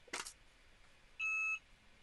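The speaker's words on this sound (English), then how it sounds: "That was the timer. 30 seconds is up." A kitchen-style timer gives one short electronic beep after a 30-second countdown, preceded by a brief soft click, in an otherwise quiet room.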